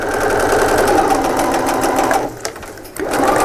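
A sewing machine top stitches a fabric pouch with a steady, close, loud mechanical whir, then slows and briefly pauses near the end before starting up again.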